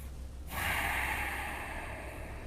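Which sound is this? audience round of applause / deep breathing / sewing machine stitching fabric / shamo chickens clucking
deep breathing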